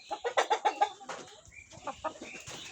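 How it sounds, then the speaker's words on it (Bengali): Tiger breed chickens cluck close by in a quick run of about six sharp clucks, followed by softer, scattered clucking and calls. "একদম অরিজিনাল টাইগার মুরগি।"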